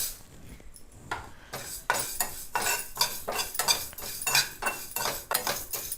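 Fennel and fenugreek seeds dry roasting in a pan, stirred with a metal spoon: rhythmic scraping and clinking strokes about twice a second, close and fairly loud, with no voices.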